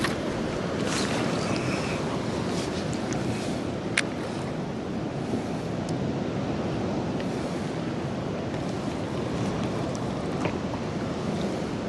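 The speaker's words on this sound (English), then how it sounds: "Just got to watch the waves taking us in." Ocean waves wash around a fishing kayak at sea, a continuous broadband surf roar mixed with wind buffeting the microphone, steady and fairly loud throughout.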